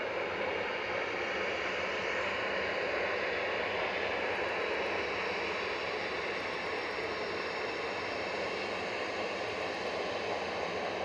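A TUI Boeing 737-800 jet at Manchester Airport gives a steady, loud, broadband engine roar that holds evenly for the whole stretch with no talk over it.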